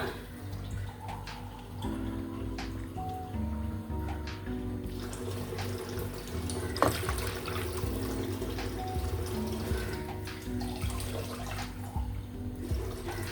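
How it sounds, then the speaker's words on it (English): Water pours into a pot of fish pilau rice on the stove, a soft, continuous splashing and trickling that stays fairly faint and even throughout, with no talking. "I will add some more water."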